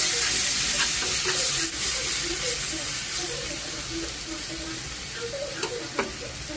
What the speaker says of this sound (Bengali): পেঁয়াজ এবং আদা বাটা একটু ভেজে নিতে হবে